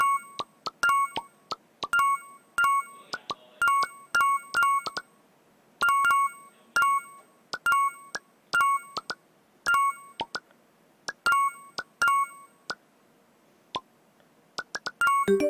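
Bright electronic ding-dong chimes from the Brain Age video game, sounding in quick repeated pairs and clusters with short silent gaps between, clear and close, with no talking over them.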